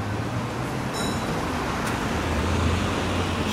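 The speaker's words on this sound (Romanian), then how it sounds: "Vin mașini câte două rânduri" Steady traffic rumbles through a city intersection, cars passing in two lanes with continuous low engine and tyre noise, fairly close and even in level, with no talk.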